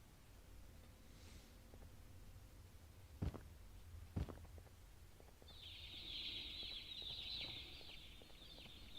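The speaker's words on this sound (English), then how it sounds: "I love the birds." Faint, distant birds twittering, with steady high chirping filling the second half and a couple of soft thumps earlier, no voices.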